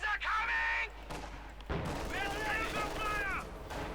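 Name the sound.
strafing run gunfire in video game Company of Heroes 2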